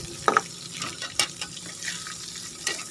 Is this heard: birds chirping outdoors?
no